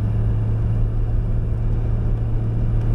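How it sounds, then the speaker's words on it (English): A classic Jaguar S-Type engine idles with a deep, steady baritone growl, a constant low rumble heard up close with no talking. "Here in the S-Type you can hear its characteristic baritone growl."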